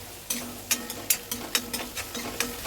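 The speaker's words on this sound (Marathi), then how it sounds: "आपण फास्ट गॅसवर परतून घेऊ" Chopped onion being sautéed in a pan over high flame, with a spoon scraping and stirring in quick irregular strokes over a soft, steady sizzle, close and alone.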